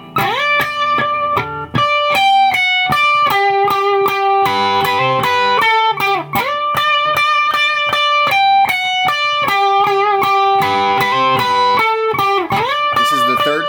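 Distorted electric guitar plays a lead part for a worship song, with loud sustained bent notes in a steady melodic line over a full, saturated tone throughout.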